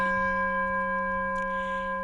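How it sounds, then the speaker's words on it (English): A gong rings with a sustained, steady metallic tone carrying several clear overtones, holding evenly at moderate level for the whole stretch with no voices. "I'm going to gong on that one too."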